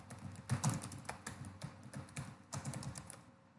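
Quiet typing on a computer keyboard, with quick irregular bursts of close key taps and short pauses between words.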